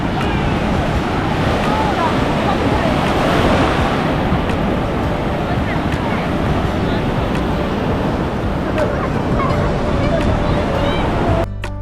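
Sea waves on the beach at Puri make a constant loud rush of surf that is blended with wind buffeting the microphone and distant crowd babble, and it stops abruptly at the end.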